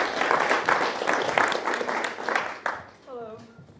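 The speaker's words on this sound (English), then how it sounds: "Give her a warm round of applause." A comedy-night audience at Larkin 25 gives warm applause as a performer comes on. The clapping is dense and lively, then fades out after about three seconds as a voice starts to speak.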